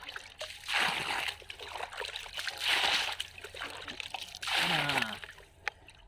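Water is poured on plants outdoors, splashing and trickling in several separate gushes of a few seconds each, fairly close and moderately loud, with a few faint background sounds.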